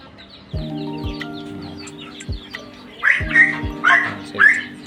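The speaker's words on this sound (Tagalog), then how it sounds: "Ito na yung mga roosters and hens natin" Roosters and hens in a backyard flock clucking and calling, several nearby birds with short squawks and throaty clucks, louder in a cluster toward the end.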